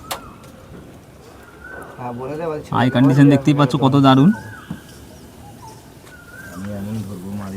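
Rampuri Mukhua pigeons coo softly in the background while someone talks loudly over them in the middle stretch.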